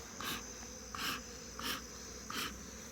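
Four evenly spaced bursts of buzzing honeybees being smoked on a nucleus hive frame, each rising and fading briefly over a steady faint background hum, fairly close.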